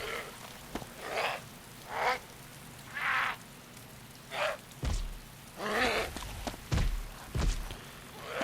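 Rain falls in the survival game DayZ as a steady hiss, broken by recurring soft bursts and a few low thuds like footsteps, moderately loud with no talking.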